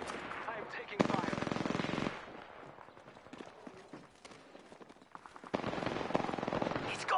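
Rapid automatic gunfire from the Apex Legends video game, heavy bursts separated by quieter stretches of scattered shots, loud and close with mixed game sounds underneath.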